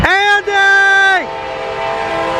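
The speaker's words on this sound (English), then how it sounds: "Blow the horn, Andy!" A loud, sustained CSX freight train horn at Cooke Road in Columbus, Ohio, held for about a second before cutting off, leaving a steady rumble of the passing train.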